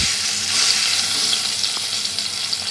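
Ground green masala paste frying in hot oil in a pan with fish, a steady close sizzle and crackle running without a break, with no talking.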